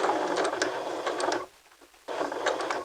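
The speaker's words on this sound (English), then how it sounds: "Forward stitch a couple, back stitch, and go to the end," Sewing machine running forward stitches, pausing briefly, then stitching again: a rapid mechanical whirr with rhythmic needle clatter, close and fairly loud, stopping for about half a second before resuming.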